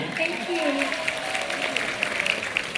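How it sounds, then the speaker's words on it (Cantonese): Applause from an audience, a steady patter of many hands clapping while a voice talks over it. "俾掌聲殷敏芳好嘛？"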